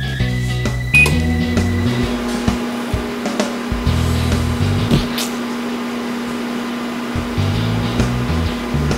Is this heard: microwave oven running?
yes